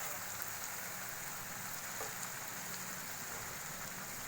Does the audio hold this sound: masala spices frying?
yes